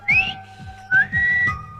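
A man whistles through the side of his mouth after having a tooth pulled, in a comedy film scene: three short, wavering whistled notes, fairly close, over a low rhythmic backing.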